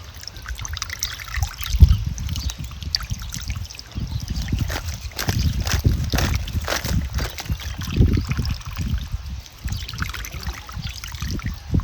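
Water splashes and trickles as eggplants are swished and rinsed by hand, with irregular sloshing bursts continuing throughout.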